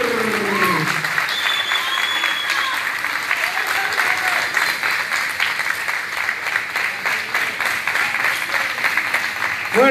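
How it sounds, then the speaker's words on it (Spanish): Crowd applause fills a boxing venue after a provincial title bout, a dense, steady wash of many hands clapping at moderate distance, with voices and whistles mixed in. "fuerte el aplauso para Franco Decisio"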